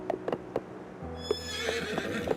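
Horse neighing in the video game Silver Palace: a few sharp hoof-like clops, then a drawn-out whinny with bright, wavering harmonics, followed by a couple of short snorts, close and clear with no talk.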